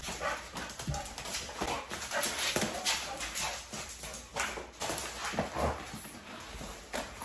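A dog makes soft whimpers and short yips in a series of quiet, close cries, with faint background noise and no clear speech.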